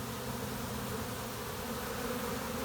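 Honey bees from a swarm buzz in a steady, dense drone that carries on without a break throughout, fairly close and alone with no voices.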